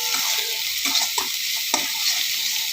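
Fish curry with mustard paste, turmeric, chilli powder and salt is stirred in a pan over a steady sizzle. Several distinct scraping strokes of the spoon stand out close by against the continuous frying hiss.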